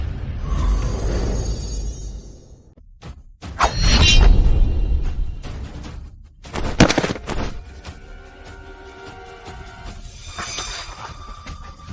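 Staged film gunfire in a fight scene: sharp bursts of shots and shattering impacts, loud and close, broken up by short quiet gaps and whooshing movement, with a metallic mechanical tail near the end.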